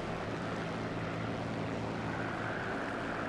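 A German propeller aircraft's engine drones steadily during takeoff in the War Thunder video game. It is a dense, continuous roar with no voice over it.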